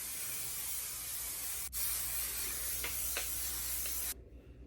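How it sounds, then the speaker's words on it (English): A steady, close hiss of Aerogel aerosol hairspray runs for about four seconds after a brief click, then cuts off abruptly, leaving near silence. "take your Aerogel hairspray, you're gonna shake it and you spray it all over."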